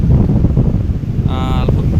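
Strong wind buffets the microphone at Laem Son beach in Rayong, with low roaring sea noise underneath throughout; a brief faint tonal whine rises near the end.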